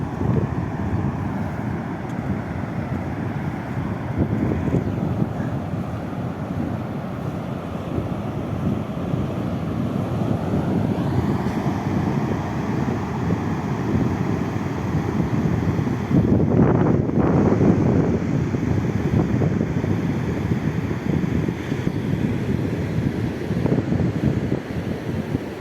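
Steady, heavy wind buffeting a microphone, a constant low roar and rumble that never lets up, with gusts swelling louder midway through.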